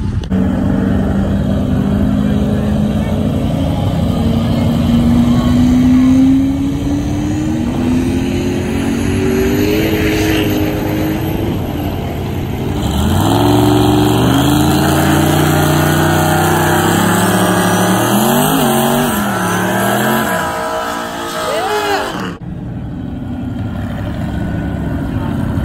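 An off-road rig makes a hill climb attempt, its engine droning loudly and revving up and down for a long stretch, with pitch sweeping higher and lower as it strains.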